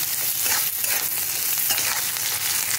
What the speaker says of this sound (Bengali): এখন চিনি 2 চামচের মতো চিনি দিয়ে দেবো। ভালো করে একটু আমি নাড়িয়ে চাড়িয়ে দেবো।